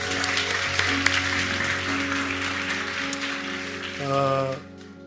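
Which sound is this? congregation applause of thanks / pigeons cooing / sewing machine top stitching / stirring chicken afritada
congregation applause of thanks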